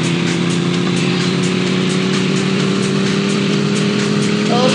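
Game engine drone of a car in the Traffic Racer mobile driving game, a steady loud hum with a rising pitch near the end, continuous with no voices.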